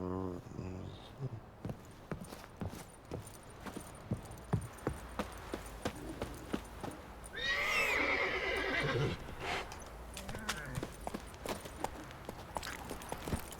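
Roach, a horse in The Witcher 3, lets out a loud whinny midway through, surrounded by steady hoof clip-clops and footsteps, with a voice talking briefly near the start.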